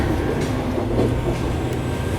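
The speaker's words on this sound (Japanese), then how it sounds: "時間になり鴨行きは亀山駅を発車。" Train pulling out of Kameyama Station on a local run bound for Kamo, heard as a continuous, loud, low rumble with no speech over it.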